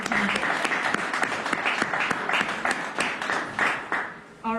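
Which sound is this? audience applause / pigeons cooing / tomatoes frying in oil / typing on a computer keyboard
audience applause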